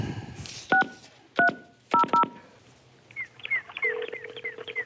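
A telephone is dialed with several distinct tonal key beeps, some in quick pairs, followed by a ringback tone and a recorded birdsong ring.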